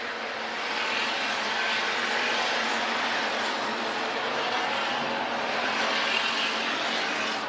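Hobby stock race cars roaring around a dirt oval at Crawford County Speedway, a continuous loud blended engine drone from a pack of cars, steady and sustained with no distinct breaks.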